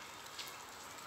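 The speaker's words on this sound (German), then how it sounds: "es regnet" Steady rain pattering on surfaces at a railway station in Horneburg, a soft even hiss throughout the short stretch with no voices.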